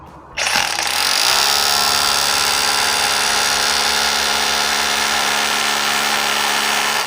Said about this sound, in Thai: ก็เจาะเข้าได้ดีเลยนะครับ